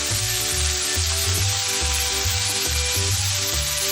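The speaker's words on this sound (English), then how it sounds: "I've got olive oil going here, and I've got seasoning going" Onions sizzling in olive oil in a pan, a loud steady frying hiss with repeated scraping and stirring strokes of a spatula across the pan.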